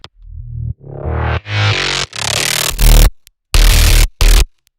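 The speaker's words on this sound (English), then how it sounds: "So it's just this extra distorted, loud part here" Heavily distorted cyberpunk bass synth stabs, loud and aggressive, in a series of bursts with gaps between them, each swelling brighter than the last before the final short hits.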